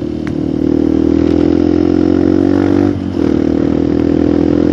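A motorcycle engine drones loud and close on a mountain road, holding a steady revving pitch with a brief dip near the three-second mark before picking back up.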